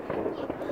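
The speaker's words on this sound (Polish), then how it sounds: "Mam nowy ten film, jak Janusz odpalają fajerwerki." Local fireworks set off for New Year 2022 crackle and pop in a dense, continuous burst, with faint voices mixed into the noise.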